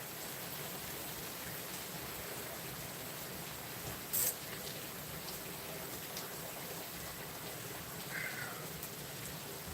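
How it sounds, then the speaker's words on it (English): Dense, steady hiss of heavy rain pouring down without a break, with a couple of brief higher-pitched noises. "It's raining up a storm out here."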